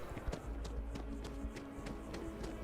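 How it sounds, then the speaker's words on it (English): Rapid, evenly spaced footsteps of a running player character in the Starfield video game, a steady run of soft taps over a low continuous game hum. "Because the player's footsteps, when being animated in third-person mode, actually moves faster than the actual sync rate"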